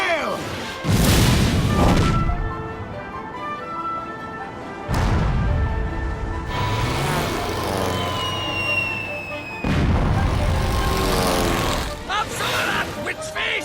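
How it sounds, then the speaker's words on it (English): Heavy cannon blasts in a battle at the White Witch's lair in the video game Ni no Kuni: three loud booming shots spaced several seconds apart, each with a crashing impact and a long decay, with game music and effects in between. "Now, men, prime the cannons."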